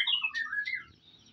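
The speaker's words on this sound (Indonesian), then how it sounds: "Ini burung hibrid teman-teman ya." Hybrid trucukan bird, a monomorphic bulbul type, gives a quick series of sweeping chirped whistles, near and distinct, fading toward the end over a low background hum.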